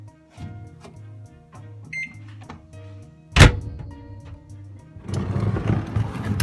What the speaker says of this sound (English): Microwave it again for 30 seconds and continue the pattern until it's just starting to brown